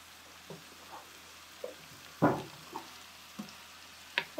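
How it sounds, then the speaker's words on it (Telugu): Eggplant and potato pieces fry in a little oil with salt and chili, a faint low sizzle broken by scattered soft clinks and scrapes of a spoon against the pan. "ఉప్పు కారం కలిపిన తర్వాత ఉన్న కొంచెం నూనెలో అలా ఫ్రై అవుతుంటే"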